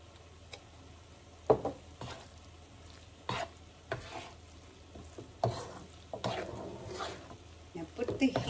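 Ground coconut masala with cumin powder sizzling softly in a pan, stirred at low heat, with faint frying hiss broken by scattered scraping and stirring clatters.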